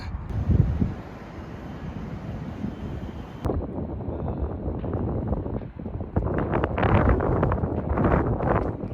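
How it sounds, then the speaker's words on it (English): Gusty wind buffeting outdoors beside a new stadium in Madrid, a continuous low rumbling roar that swells and surges, loud and close to the microphone. "the flag starts waving, the wind starts blowing"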